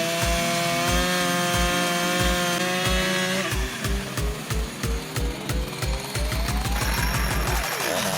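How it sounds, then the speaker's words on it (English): A chainsaw cuts through a thick tree trunk during logging work, its engine droning steadily and loudly while the chain bites into the wood, with rhythmic pulsing through the cut. "Watch as the chainsaw slices through the thick trunk with ease."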